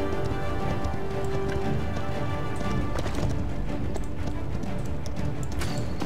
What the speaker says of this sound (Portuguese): tô no cavalo